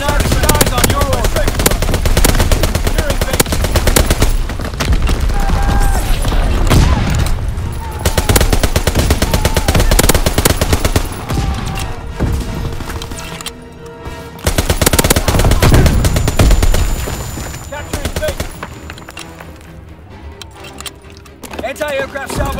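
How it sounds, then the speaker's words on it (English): An anti-aircraft battery salvo fires in Call of Duty: WWII on the Shipment 1944 map during a Domination match, a dense, sustained barrage of loud rapid gunfire lasting throughout, mixed with voices talking. "Anti-aircraft salvo commenced. Clearing the skies."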